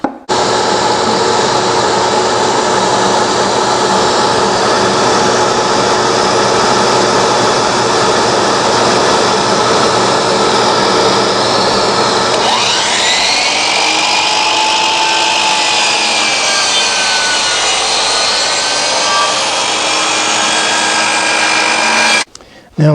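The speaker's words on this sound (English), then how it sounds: "I can cut these on my sliding miter saw." A sliding miter saw cuts wood for a bird feeder build, its motor whining loudly and steadily, then the pitch sags midway as the blade bites, with the motor sounding strained until it stops.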